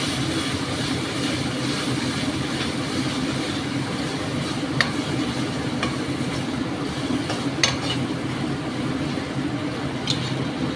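Mutton being stir-fried dry (kosha) in a pan for a restaurant-style mutton tarka gives a steady low sizzle and scraping of a spoon, continuous and close throughout with a few faint clicks.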